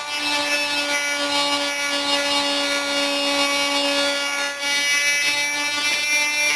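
Polishing an engine exhaust port with a high-speed rotary tool, a steady whining grind with a constant pitched tone, continuous and close with no talk.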